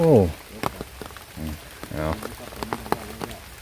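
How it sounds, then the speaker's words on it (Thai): Rain falls outdoors as a steady wash of patter across the whole stretch, with people talking and exclaiming over it in bursts. "ท่ามกลางสายฝนครับ"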